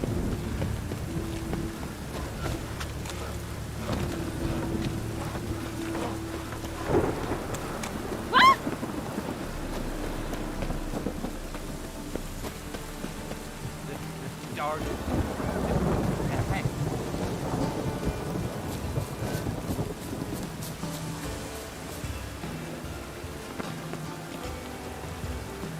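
Rain and thunder in the video game Witcher 3, a steady hiss of rainfall with a deep rolling rumble of thunder, a sharp crack partway through, then another long swelling roll.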